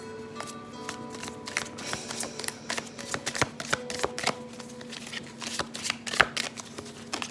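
Tarot cards shuffled by hand in a run of quick papery riffles and snaps, close and fairly clear, with a faint background hum and no talk.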